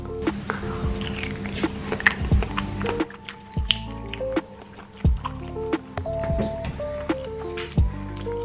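Vegan prawns are bitten and chewed up close, with moist squishy chewing and occasional sharper bites over a steady background hum.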